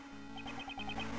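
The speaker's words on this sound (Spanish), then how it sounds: "Ese es el teléfono de Courtney, ¿no?" A mobile phone rings in Ace Attorney Investigations 2, a quick repeating electronic chirping ringtone pattern over a low background hum, with no voices.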